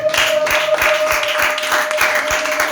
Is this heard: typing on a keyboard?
no